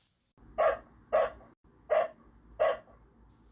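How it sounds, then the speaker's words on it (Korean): A dog barks excitedly in a steady run of four sharp, evenly spaced barks, close and clear against a quiet background, heard as a sound effect within a narrated story. "그 남자의 개가 흥분한 듯 맹렬하게 지저대기 시작했다"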